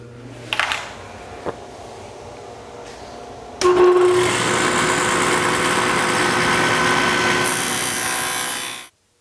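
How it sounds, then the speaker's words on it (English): A table saw with a dado stack spins up and cuts a dado in wood with a loud, steady whining roar that holds for several seconds before abruptly stopping. "I'm gonna go ahead and cut the dado for that center shelf"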